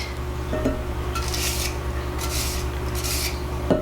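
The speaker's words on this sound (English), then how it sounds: "All right, I'm gonna whisk this together" Carrot cake roll batter being whisked by hand in a bowl, a steady scratchy rasping of the whisk with rhythmic swells, over a constant low hum.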